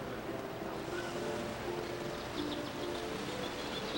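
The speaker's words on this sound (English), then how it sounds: "Here we are on the famous Waikiki Beach in Hawaii, Honolulu." Ocean surf washing ashore on Waikiki Beach in Honolulu, Hawaii, a steady broad wash of waves with wind buffeting the microphone throughout.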